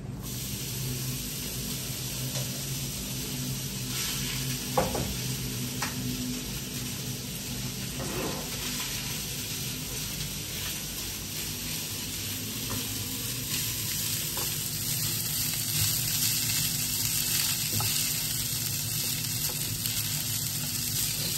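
Mustard seeds and other tempering spices fry in hot oil in a pan for popu annam, giving a steady close sizzle with scattered crackles and pops that runs on without a break for about twenty seconds.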